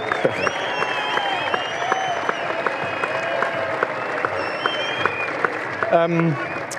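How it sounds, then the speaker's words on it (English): A cricket crowd applauds Jimmy Anderson's 700th Test wicket, sustained clapping heard at a distance beneath a nearby voice, with occasional sharper claps rising out of the steady patter. "let him get his round of applause here"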